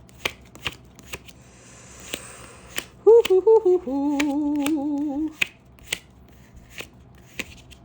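A deck of cards is handled during a tarot-style reading: sharp isolated card snaps and flicks recur at intervals, with a brief riffle-like flutter in the middle, close and fairly quiet, with no one speaking.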